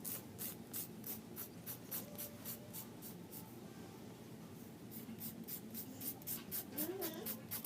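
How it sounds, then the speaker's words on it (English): A nail file rasps downward strokes to trim excess from a Jamberry nail wrap, producing a steady run of short, close scratchy strokes in a quick regular rhythm with no talking. "file off the excess in a downward motion"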